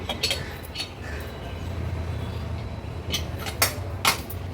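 A pressure cooker lid is opened after cooking a green chickpea curry, with a steady broad hiss and a few sharp, close metallic clanks near the end.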